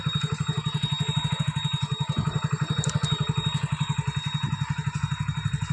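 A 2020 Hero Splendor Plus motorcycle at a used bike sale in Salem idles steadily nearby, its engine putting out an even, rapid thumping pulse that holds for several seconds with no one talking.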